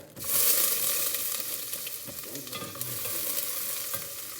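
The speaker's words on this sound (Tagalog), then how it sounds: "Lagay na natin itong garlic, onion, at saka luya." Garlic, onion and ginger sizzle loudly in a hot pan, a steady crackling hiss that flares right away and holds for several seconds. Occasional scrapes and stirring clatter sound up close.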